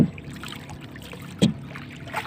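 Sea water laps and splashes gently near a small paddled boat, quiet and close, with a few soft paddle strokes breaking through the faint background.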